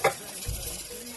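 Chicken and potatoes stirred in a hot pan give a quiet steady sizzle with a brief scrape of the utensil near the start and a soft low thump, heard close up with no talking.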